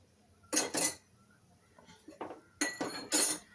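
A spoon clinks and scrapes against a pot while salt is mixed into saag, in short separate bursts: two early, then a quieter patch and a louder cluster near the end, close and clear with no voices.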